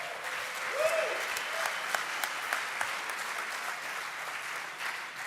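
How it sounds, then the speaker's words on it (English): Audience applause at the Droidcon Italy 2016 developer conference, steady dense clapping throughout, moderately loud and sustained without pause. "a big round of applause for him"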